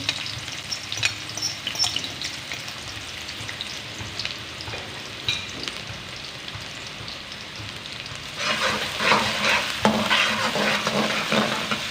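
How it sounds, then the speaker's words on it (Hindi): Onions sautéing in a pan for veg egg fried rice, a steady close sizzle with scraping stirs, growing louder and busier toward the end, no talking. "और प्याज को सौते कर लेते हैं।"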